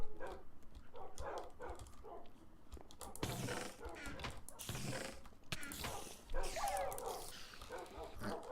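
Dogs in the Crash Landing video game bark and yip in scattered bursts, mixed with game sounds and a person talking at times.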